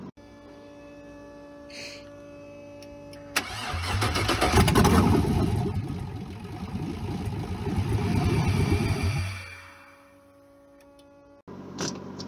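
A car engine in a project build of a supercharged Corvette cranks and catches, bursting into a loud rough roar that rises and surges for several seconds before settling and fading, with a faint hum before and a click after.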